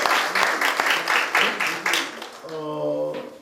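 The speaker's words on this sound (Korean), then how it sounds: "박수 한번 부탁드리겠습니다" A round of applause for council secretariat staff at a Seoul city council forum, clapping in uneven bursts that fades out after about two and a half seconds, followed by a voice speaking.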